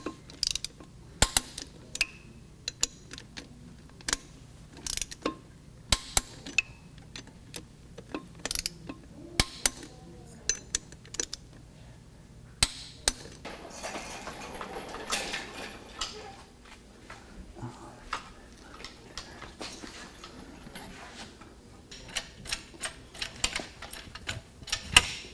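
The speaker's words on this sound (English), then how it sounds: "Now I'm just gonna tighten these, opposing each other, and keep crisscrossing back and forth until we hear our torque wrench click." Torque wrench ratcheting and clicking while transfer case bolts are tightened in a crisscross pattern on an Advance Adapters Atlas transfer case install; sharp, close mechanical clicks repeat irregularly throughout over a low background hum.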